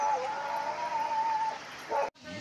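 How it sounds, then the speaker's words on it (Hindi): A dog in a remote hill village in Champawat gives a drawn-out, high whining yelp that holds for over a second. A shorter cry follows, fairly close and clear over faint outdoor background. "कुत्ता भौंक रहा है तो डर लग रही है।"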